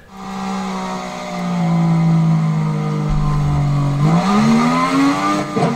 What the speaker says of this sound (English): You can hear the engine noises.